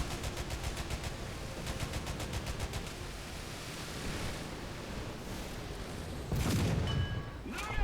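A tank gun fires in the War Thunder video game: a sustained rumble of distant gunfire builds to one loud, heavy blast near the end, with no talking.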